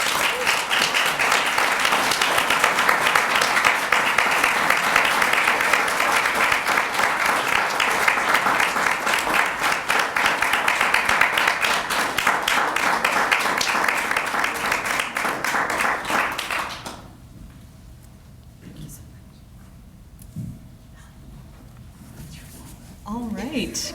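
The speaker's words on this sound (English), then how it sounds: "let's give them another round of applause" Sustained applause from a seated audience at a tech presentation honouring award winners, dense and steady for about sixteen seconds before cutting off to quiet room sound with faint movement.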